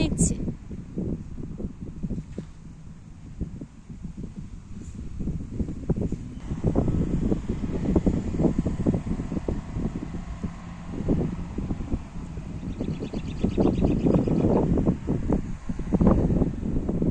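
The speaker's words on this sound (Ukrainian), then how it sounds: "Трохи вітер сьогодні" Steady wind buffets the microphone throughout, a low rumbling roar with gusts that swell louder in the second half, while a person speaks over it.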